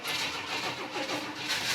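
A 1986 Buick Grand National engine cranks and fires up, a close, rough mid-pitched churn with uneven pulses that settles into a running rumble.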